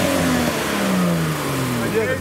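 A Gusheshe car engine revs steadily with rising and falling tones, loud and close, while speech-like sounds blend in over the engine noise.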